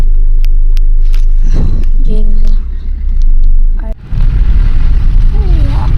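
A car driven through Delhi toward a school science exhibition, heard from inside the cabin: a steady low engine and road rumble runs throughout, with a brief dip near the end, while people talk over it.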